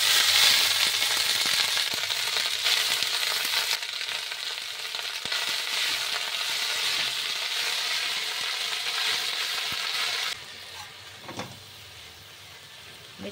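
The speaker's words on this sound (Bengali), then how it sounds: "মেথি শাকটা দিয়ে দিচ্ছি।" Fenugreek greens are added to hot oil with fried panch phoron and give a loud, continuous frying sizzle that stays strong for about ten seconds, then drops to a quieter sizzle, with no speech.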